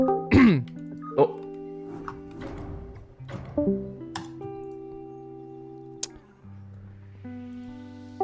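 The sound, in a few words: coughing and throat clearing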